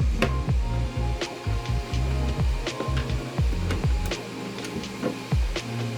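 A Flashforge A5M 3D printer printing a Gridfinity box, its stepper motors making steady rising and falling whines and ticks with repeated movement sweeps, close and alone with no talk.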